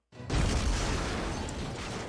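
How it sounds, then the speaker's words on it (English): An explosion in the Fate/Grand Order mobile game erupts in a sudden deep boom, then a sustained rumbling blast that stays loud and fades only slightly over two seconds, with no speech. "First thing I hear is a horse and an explosion."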